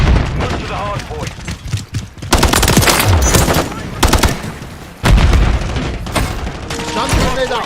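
Rapid automatic gunfire and bursts in a tactical shooter video game, loud and dense with short pauses, alongside grenade blasts and game voice callouts.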